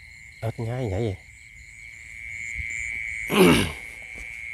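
Frogs and insects calling at night beside a rice field, a steady high insect drone with bursts of croaking, and a short louder rustle or movement near the end.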